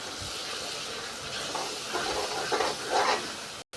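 Grated coconut is stirred into a tomato puree gravy in a pan over a steady hissing sizzle, with soft swelling stirring strokes near the end before a brief cut.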